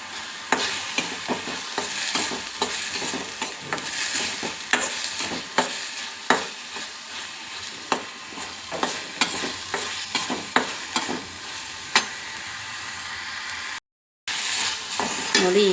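Green chillies and curry leaves fry for crab sukka, with a loud, constant sizzle broken by regular scraping strokes of a spoon stirring the pan, close and steady.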